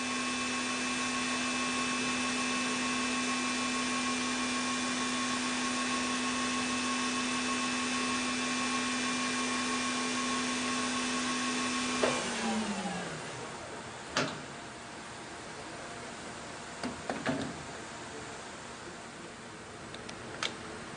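A QP-1620L high-speed CNC machining center spindle rated to 15,000 RPM holds a steady high whine with a constant tonal hum, then spins down after about twelve seconds, followed by a few isolated clicks and knocks in quiet room tone.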